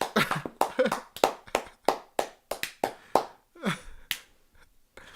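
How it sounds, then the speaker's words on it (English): Slow, sparse hand claps for the winner of a digital marketing quiz, about a dozen sharp close claps spaced unevenly at roughly half-second intervals, with a brief voiced exclamation in between. "Slow clap."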